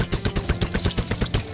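Rapid gunfire in the zombie video game The Walking Zombie: Dead City during a final boss fight, a fast string of sharp, evenly spaced shots rattling close and loud without pause.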